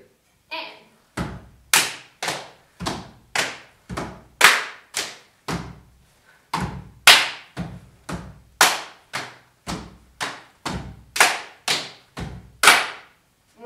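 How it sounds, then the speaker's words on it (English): A steady run of sharp, close hand claps or stamps in a rhythmic pattern, each strike crisp with a short decay, continuing over many beats with brief pauses and no talk. "we have another clap"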